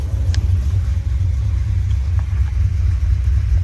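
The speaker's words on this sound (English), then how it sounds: "Let's test out the hot start" Z06 Corvette engine hot-started after repairs, a deep steady idle rumble, close and continuous, with no voices.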